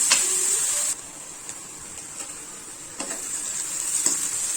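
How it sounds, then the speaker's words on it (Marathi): Onion frying in a pan for Malvani chicken rassa, a steady bright sizzle with occasional stirring scrapes, louder at first, then softer and even, with no talk. "आपला कांदा इथे छान फ्राय होतोय"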